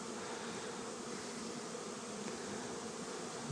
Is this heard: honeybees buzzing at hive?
yes